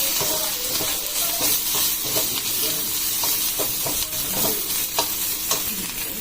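Spices and chilli powder dry-roasting in a pan for stuffed brinjal curry, with a steady close sizzle and repeated scraping stir strokes throughout and no talking.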